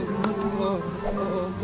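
Bees swarm in the video game Don't Whack Your Teacher, a loud, steady, close buzzing drone that fills the whole moment without pause.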